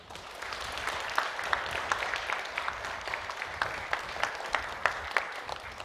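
A congregation claps steadily after a Bible war-history seminar lecture at a Wednesday night church service, a sustained, even patter of many hands with a few sharper claps standing out.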